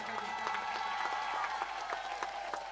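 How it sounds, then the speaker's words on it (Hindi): Audience at a live Shrimad Bhagavat Katha religious gathering in Umarkot, Odisha, claps loudly and steadily with hands raised, a dense sustained applause filling the hall throughout. "जोरदार ताली दोनों हाथ उठा करके।"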